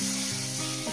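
Hot oil sizzling in a pan before fish goes in for a rohu curry with potato and cauliflower, a brief, loud, close crackling hiss.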